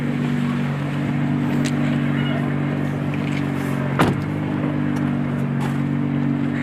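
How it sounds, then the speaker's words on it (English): A Nissan GT-R car driving, heard as a steady engine drone with a strong low hum held throughout, mid-distance and fairly loud, with a brief sharp thump partway through and no talking. "Mike driving a GTR."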